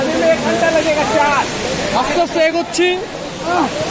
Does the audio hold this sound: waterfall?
yes